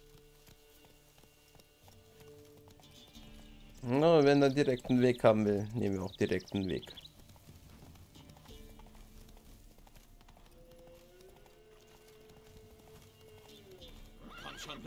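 Horse neighing in The Witcher 3: a loud, quivering whinny bursts out for a few seconds amid faint game ambience and music, followed by quiet hoofbeats, with someone talking over part of it.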